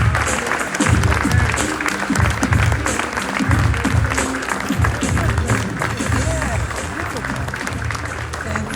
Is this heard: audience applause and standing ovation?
yes